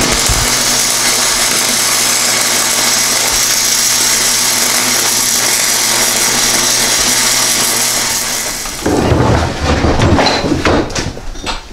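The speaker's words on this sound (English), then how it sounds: "so he's welding that together" Welding two steel skid plate pieces together for a Chevy G20 van, a loud continuous crackling buzz up close that cuts out near the end, followed by a few sharper clanks and rattles.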